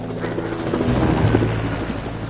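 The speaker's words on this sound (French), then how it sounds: "Un hélicoptère va survoler la zone." A helicopter flies over open countryside during a search by a hundred gendarmes, its rotor giving a steady, loud, throbbing drone that fills the whole stretch with no one speaking.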